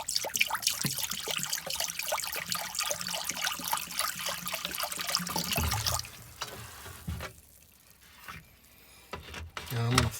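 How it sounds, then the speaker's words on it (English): Liquid is dumped down an RV sink drain into the gray tank, a steady pouring gush close by for about six seconds that then fades to quieter trickles and drain gurgles. "I'm just going to dump a fair amount down the sink here."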